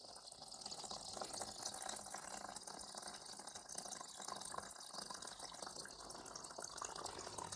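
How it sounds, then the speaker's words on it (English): Water drains steadily from a radiator pipe after its pressure is let off, a continuous close rushing and trickling with no break and no talk. "you can see that water slowing down there now"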